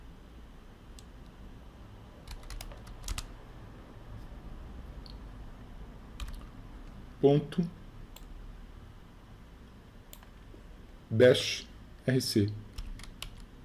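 Quick clicking keystrokes on a computer keyboard while a command is typed into a Linux terminal, moderately close, with sparse taps and a few short clustered bursts under quiet talk.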